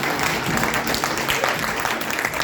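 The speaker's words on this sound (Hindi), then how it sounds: "तालियां बजाओ" An audience at a speech breaks into dense, steady applause that fills the hall at constant loudness without pause.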